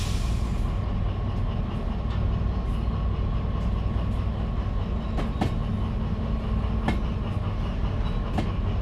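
A long freight train of 27 cars rolls past in the DV Sim railway game with a steady, loud rumble. Faint wheel clicks and a few high metallic squeals are scattered over the roar.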